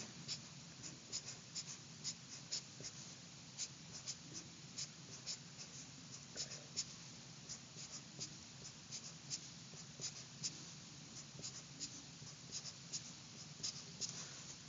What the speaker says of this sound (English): I'm really just using the black marker so you guys can see what I'm doing